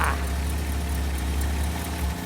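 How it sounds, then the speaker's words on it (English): A 1959 Ford Fairlane Galaxie engine running steadily after firing up, a close, even, low idle rumble with no pauses. "She fired up and flooded over."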